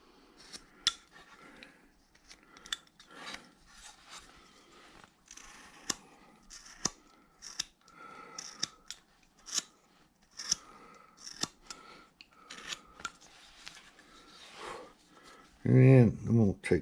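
A carving knife cuts wood on a hand-carved Santa figure made from a bandsaw cut-out, giving sharp, irregular scraping clicks and snips close by, with quiet talk between cuts and a louder clatter at the end.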